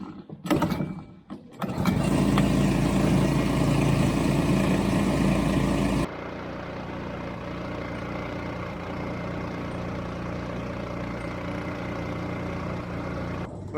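A $300 eBay outboard motor on a small fishing boat sputters through a couple of pull attempts, then catches and runs at a loud steady drone before easing to a lower, quieter idle hum.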